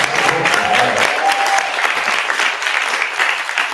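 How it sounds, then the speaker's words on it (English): A lecture-hall audience at a university course event gives a sustained round of clapping, dense and steady for the whole stretch, with no talking over it. "Yeah, please clap, another round."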